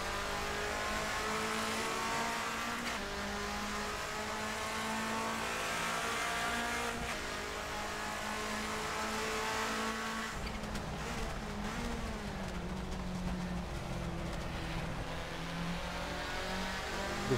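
A 1990s DTM racing car engine in the video game Assetto Corsa drones steadily at high revs, with shifts in pitch as it accelerates and eases off, heard continuously without talk.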